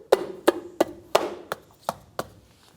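A plastic wheel center cap on a 1994-2004 Chevrolet S-10 is pressed into place over the lug nuts, giving a series of seven sharp, close snapping taps at a steady, roughly even rhythm, with no talking.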